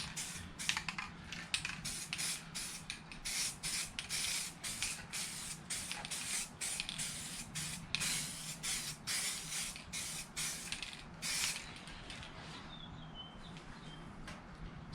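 Steady spray hiss of a coating being applied in repeated bursts onto a sticky 1970s–80s steering wheel outdoors in hot weather, with faint birdsong in the background and no talking.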